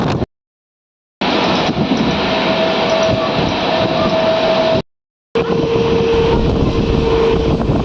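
The Valsad–Dahod Intercity Express runs with a loud, steady rumble and rattle of wheels and carriage, heard from on board with a faint whine. The sound cuts out twice for brief silent gaps before resuming.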